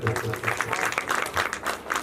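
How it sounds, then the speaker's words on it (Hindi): A short burst of clapping from a small crowd, steady and fairly faint, with a bit of background voice. "जोरदार तालियां"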